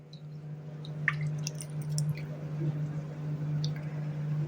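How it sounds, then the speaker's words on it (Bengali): Sago pearls are washed by hand in water, giving soft squishy swishes and small drips over a steady low hum. "জল দিয়ে সাবুটাকে খুব সুন্দর করে ধুয়ে নেব।"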